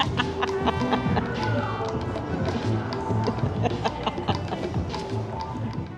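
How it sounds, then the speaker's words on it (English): Chickens roaming a busy outdoor street area in Ybor City, Florida, cluck in short bursts amid background chatter, footsteps and tapping sounds. "Did you get scared by a chicken?"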